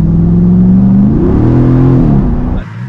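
A Jeep with a swapped-in 392 V8 gets a quick throttle blip: a loud, close, deep engine note swells upward, holds briefly, then drops away and cuts off near the end.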